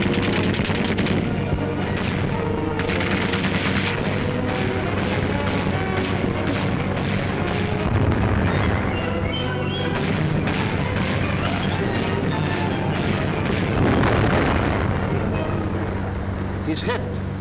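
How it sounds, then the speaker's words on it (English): Heavy WWII artillery fires on the Russian front, a dense roar of repeated booms and gunfire on an old newsreel soundtrack, with a narrator talking over it throughout. "The gunners get the range. The long, thin shells cut the air."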